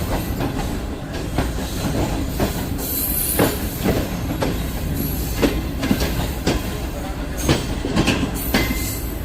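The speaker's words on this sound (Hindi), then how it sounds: "नवाब शाह रेलवे स्टेशन पर अराइवल हो रहा है 27 अब शालीमार एक्सप्रेस का" Shalimar Express train pulling into Nawabshah railway station in Pakistan, a steady loud rumble of rolling carriages with rhythmic wheel clatter and repeated sharp squeals from the wheels throughout.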